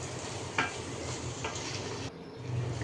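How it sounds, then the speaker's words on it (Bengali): Pasta and noodles in tomato sauce with magic masala and chili flakes are stirred in a pan, giving a soft, steady sizzle with a few scraping clicks of a spoon against the metal. "তো আমি নাড়াচাড়া করে মিশিয়ে দিচ্ছি।"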